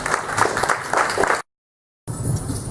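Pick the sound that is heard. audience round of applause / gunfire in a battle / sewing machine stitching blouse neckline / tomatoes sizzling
audience round of applause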